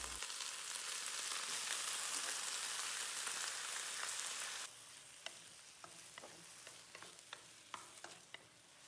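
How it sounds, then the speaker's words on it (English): Shanghai rice cake and bok choy stir-fry in a wok with a loud, steady sizzle that drops to a softer hiss, punctuated by light clicks of a spatula scraping the pan. "Stir fry to release the fragrance. Now add the bok choy in. Now add the rice cake in."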